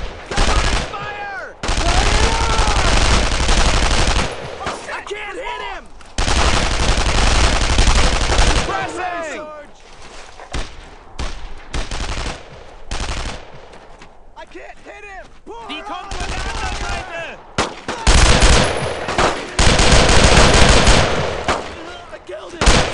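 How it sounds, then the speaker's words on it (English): Long rattling bursts of machine-gun suppressing fire in the World War II shooter Brothers in Arms: Road to Hill 30, loud and close, broken by short pauses and shouted voices. "I need suppressing fire!"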